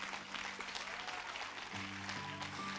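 Audience applause welcoming a choir conductor and piano accompanist onto the stage at an evening concert, a steady wash of clapping throughout with faint sustained tones underneath.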